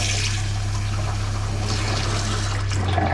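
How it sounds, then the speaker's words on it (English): A low steady hum from a truck camper's water pump runs beneath the hiss of water flowing from a sink faucet, both continuous and close. "you could hear the pump turn on and off as we turn the water on and off."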